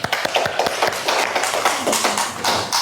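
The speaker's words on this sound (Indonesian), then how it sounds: "Kita boleh tepuk tangan." Scattered audience clapping during a focus and mindfulness session, individual hand claps ringing out in a loose, uneven rhythm over a few seconds, fairly close and clear.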